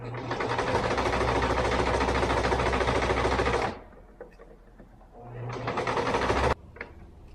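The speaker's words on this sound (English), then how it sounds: "You want to be careful here when you're sewing that your gusset piece doesn't get any folds or wrinkles in it." Sewing machine stitching a fabric gusset piece on a stuffed hippo head, a close, loud steady whir that stops, pauses briefly with faint handling, then runs again.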